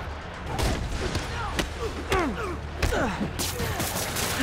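Rockets fire in a Spider-Man video game, a run of sweeping whooshes punctuated by sharp blasts and thuds, fairly close and busy, with a voice briefly heard among them.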